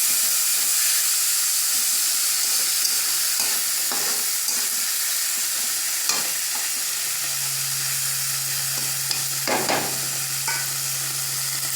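Onion, garlic and green chili frying together in a pan give a loud, continuous hissing sizzle, with scraping strokes from stirring scattered throughout and a steady low hum joining partway through.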